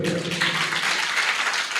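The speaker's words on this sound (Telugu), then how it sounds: "గట్టిగా చప్పట్లు కొట్ట." Church congregation clapping loudly, a dense continuous burst of applause filling the room for a couple of seconds.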